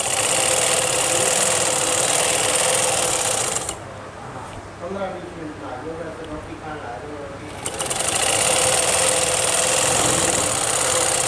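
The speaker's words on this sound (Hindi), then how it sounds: "ये देखो हाफ इंच का मार्जिन दबाते हुए सीधी सिलाई लगाएंगे।" A sewing machine runs a straight seam with a half-inch margin on a designer suit kameez, whirring steadily and loudly, then stopping for a few seconds while someone speaks before whirring again.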